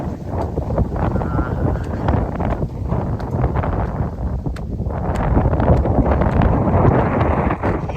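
Strong wind in a thunderstorm with heavy rain roars steadily into the microphone throughout, a dense rushing noise that swells slightly toward the end, with a voice speaking faintly underneath.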